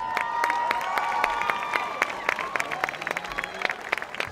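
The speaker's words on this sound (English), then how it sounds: "Yep, applause." Crowd at a high school football game between Agoura and Newbury Park clapping and cheering during a homecoming court announcement, with scattered claps thinning out over a few seconds beneath a voice and distant music.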